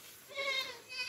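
A goat bleats in a short, wavering call at close range on a farm just after rain, with a second brief bleat trailing at the end.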